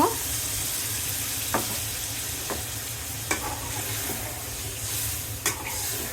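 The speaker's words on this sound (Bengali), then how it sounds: "সামান্য পানি দিয়ে দিব" Water poured into a pan of village desi chicken frying for a Bengali jhol, giving a steady loud sizzle with a few sharp clinks of stirring throughout.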